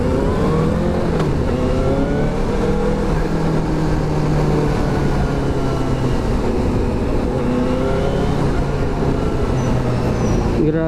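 A Benelli TNT600i roadster engine-brakes on the road, a steady loud droning engine note with falling, shifting tones, heard up close with continuous wind and road noise.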